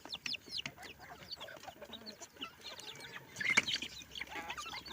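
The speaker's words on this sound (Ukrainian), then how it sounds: "Вон курочка молоденька, легорнша." A young Leghorn hen clucks in a farmyard, giving soft, scattered clucks and chirps among other birds, with one brief louder squawk near the middle.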